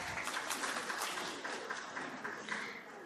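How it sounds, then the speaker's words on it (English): An audience at a youth investment forum in Pakistan applauds in a soft, distant, continuous wash of many hands clapping, with faint speech underneath. "Can we have a round of applause for her?"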